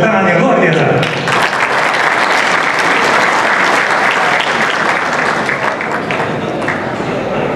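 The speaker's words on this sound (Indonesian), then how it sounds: "Kita tepuk tangan yang luar biasa." An audience at a national naval staff college seminar breaks into loud, dense applause that holds steady for several seconds, with a brief voice at the very start and crowd murmur blended into the clapping.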